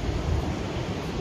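Ocean waves wash onto a beach in a broad, steady roar of surf mixed with wind rumble, close and continuous with no talk.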